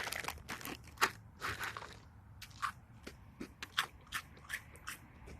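Close, crisp crunching of Pixar Coco Pocket Pop cereal being chewed, in irregular bursts of bites and grinding with short pauses between.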